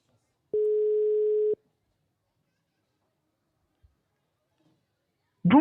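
A single steady telephone ring tone lasting about a second during a call that goes to voicemail, then near silence before a voice begins at the end.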